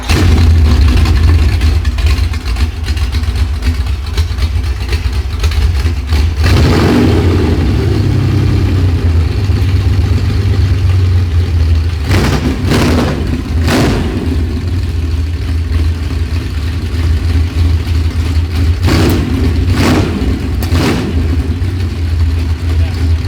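A 9.3-litre Lamborghini V12 offshore boat engine runs at a loud, rough idle throughout, with several short sharp bursts of revving and a deeper surge early on, while a person talks over it.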